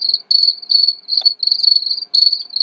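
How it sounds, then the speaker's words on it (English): Steady, high-pitched cricket chirping in long trilling bursts with short gaps, clear and close with no other sounds, played by a PICTEK night light white noise machine. "Here's the forest with crickets."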